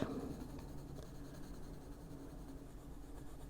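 Light colored pencil strokes on paper in an adult coloring book with a fairy design, a soft, steady scratchy rasp close up, a little stronger at the very start, with no voice over it.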